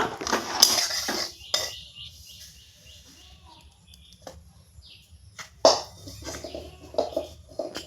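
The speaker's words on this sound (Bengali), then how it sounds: "এখন আমি গ্যাসটা অফ করে দিয়ে এই সুজিটা আমি একটা থালায় ঢেলে নেব" Roasted semolina poured from a pan onto a plate after the gas is turned off: metal clanks and scraping at the start and again midway, with quieter rustling and soft clinks between, close by.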